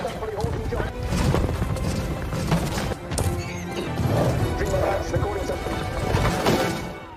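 Horses galloping in a race in a film, a dense rumble of hooves with crashing impacts and whinnies under a busy, loud mix, along with voices and music.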